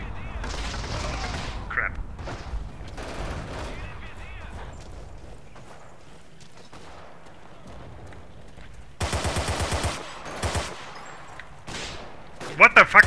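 Machine gun fire in the World War II shooter Forgotten Hope 2 on the Arad / Villers Bocage map, heard as a sharp rapid burst partway through with a few later shots, mixed with general battle noise and a player talking.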